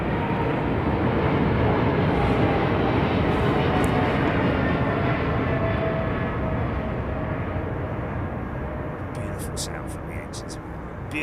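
Airliner jet engines roar steadily during a departure, a loud broadband rumble that fills the whole stretch and eases slightly toward the end, with a brief voice over the top.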